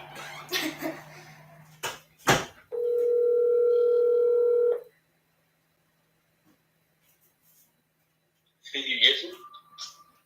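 A telephone dial tone sounds steadily for about two seconds as a call is placed, preceded by talk and a couple of sharp knocks, then a pause before a burst of touch-tone beeps and handling noise near the end.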